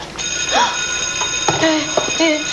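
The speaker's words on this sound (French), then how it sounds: "C'est l'alarme de feu!" A fire alarm rings with a continuous high, bright tone, loud and close, while a few short voice sounds and exclamations break in over it.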